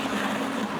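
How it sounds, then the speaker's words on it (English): A blender purees vegetables with a splash of tomato juice, a loud, steady whirring roar that continues without a break. "Just by the sound now that it's pureeing around very easily with just a little bit of liquid added in."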